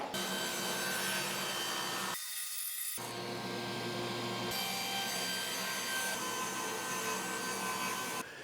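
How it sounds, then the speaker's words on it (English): A table saw runs continuously while its blade cuts an angled wooden stool seat, a loud, steady whine with rough shifts in tone as the wood feeds through, brief drop midway, no talking. "we're gonna set the angle on our table saw to match the angle that we wanna cut on the seat"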